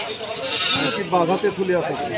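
At a goat market in Rustampur, Rajshahi, a goat lets out a wavering bleat amid busy talk from nearby men.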